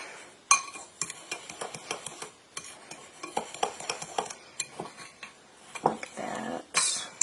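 A fork mixes cinnamon and sugar in a bowl, with quick repeated clinks and scraping strokes against the bowl in an irregular rhythm, close and moderately quiet.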